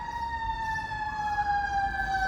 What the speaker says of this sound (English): wait for that siren to go off